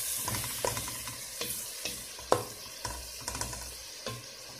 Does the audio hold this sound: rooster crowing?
no